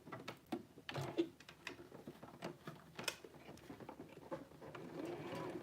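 A sewing machine stitches in short, uneven bursts of rapid mechanical clatter, fairly quiet and close, with small pauses between runs.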